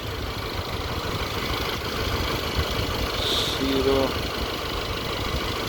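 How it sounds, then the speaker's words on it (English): Engine bay of a 2014 Mercedes E63 4matic with the cooling fan spinning below full speed over the idling engine, a steady broadband whir and hum, close and constant, with a brief spoken word. "It's not acting weird, the fan, it's acting how it's supposed to be. Not full speed, obviously."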